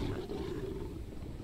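A low, continuous rumbling roar from a tiger in the video game Conan Exiles, loud and close, held steadily throughout without a break.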